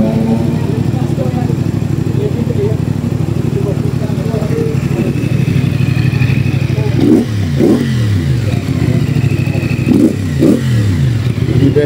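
A WMOTO Bobbi 450SR motorcycle idles close by with a steady low engine rumble, then is revved twice in sharp rising and falling bursts, while someone talks over it.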